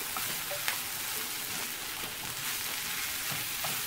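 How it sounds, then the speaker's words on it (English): Onions and peppers fry in olive oil in a pan, giving a close, even sizzling crackle that holds steady throughout with no speech. "add a little bit more olive oil so we can fry this"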